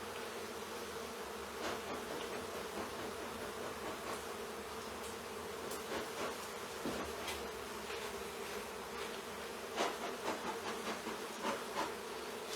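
Honey bees from a chimney in Congleton hum in a dense, continuous drone with scattered individual bees zipping past close by, and no talking.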